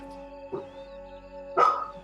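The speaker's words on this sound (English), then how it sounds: "My dogs are going mental." Dogs barking at night in short bursts, two separate barks at a moderate distance over a steady electrical hum.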